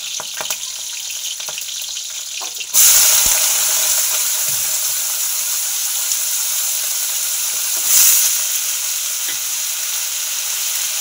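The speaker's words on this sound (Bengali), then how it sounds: "এই যে লঙ্কাগুলো ফোড়ন দিয়ে কুঁদরিটা বসিয়ে দেবো" Ivy gourd dropped into hot oil with chillies tempering in a pan: a loud, steady sizzle that flares up suddenly and carries on, swelling briefly again later, with no talk.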